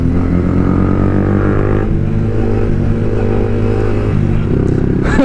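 A motorcycle engine drones loud and close on a road ride, a steady rumbling hum that shifts pitch slightly as the throttle changes, with no pauses.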